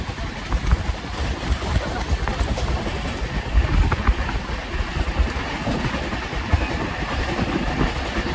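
Passenger train heading to Pandharpur carries its riders along the rails with a steady, dense rumble and clatter from inside the carriage. The sound runs loud and continuous, with no clear talk.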